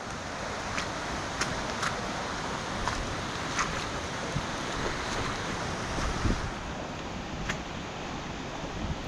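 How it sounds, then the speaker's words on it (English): Fast water runs toward the top of a waterfall at a gate, producing a steady broadband rush heard close by, with faint clicks and wind noise over it. "you can feel that the water's getting faster and faster from this point on until it goes over the top of the"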